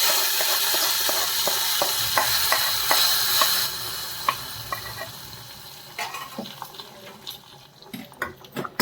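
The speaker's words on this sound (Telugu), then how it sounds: "ఇప్పుడు ఈ పోపుని ఇందులో వేసేసుకోండి." A hot tempering with dried red chilies is poured into potato and drumstick rasam, giving a loud sizzling burst that fades into softer bubbling, with stirring clinks and scrapes close by.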